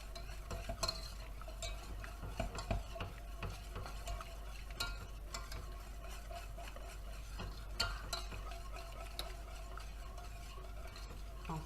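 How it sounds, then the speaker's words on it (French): Grated emmental is stirred into a hot sauce off the heat until it melts, with busy close scraping and clinking of a utensil against the pan over a soft steady background hum, no talk. "on arrête le feu et on rajoute l'emmental râpé. On mélange pour le faire fondre."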